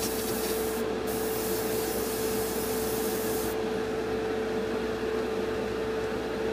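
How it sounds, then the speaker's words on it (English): Airbrush spraying paint onto a Revell Colonial Viper Mk.II scale model, a steady soft hiss of air and paint running throughout at low level, with no talk. "It takes a while for this airbrush to find its perfect balance of air and paint."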